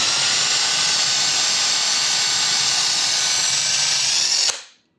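A power drill with its bit being slowly pulled back out of a hole drilled into a Lemax Market Square Christmas village piece, whining loudly and steadily up close before cutting off abruptly.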